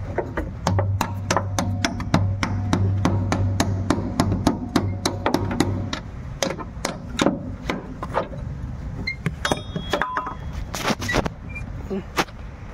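A bolt is hammered out of the rear beam of a Hyundai i10 Magna during a beam replacement, heard as a long run of loud, sharp metallic blows at a quick, uneven pace, close by, with some workshop noise behind.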